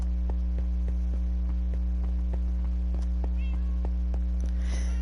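A Minecraft cat meows several times in quick succession, each mew short and clear over a constant loud electrical hum.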